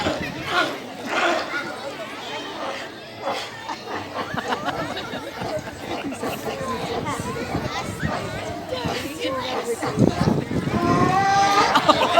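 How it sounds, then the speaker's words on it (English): Sea lions at an aquarium show vocalize in a run of honking, moo-like barks and groans, close and fairly loud, with a crowd chattering and an announcer talking underneath. "the final difference can be found in the noises that sea lions make"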